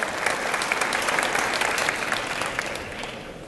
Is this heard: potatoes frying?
no